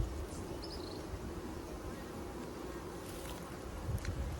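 Honey bees hum steadily at a hive in Antigua, a dense, continuous low drone of many wings close by, with a few louder passes near the end and no talking.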